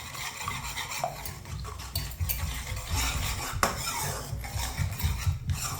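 A spoon stirs and scrapes continuously through eggs cooking in a pan over medium heat for sweet vermicelli, with steady rasping strokes and a light sizzle underneath, close and alone.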